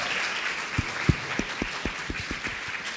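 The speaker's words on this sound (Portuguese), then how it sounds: "dar uma salva de palmas para os homens" Audience applause at a talk, faint and distant: a soft wash of clapping with a few sharper individual claps standing out over about three seconds.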